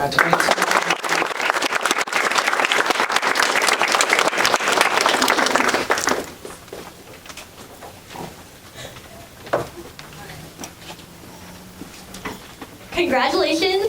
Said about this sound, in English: A round of applause for our 22.